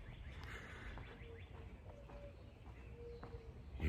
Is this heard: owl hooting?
yes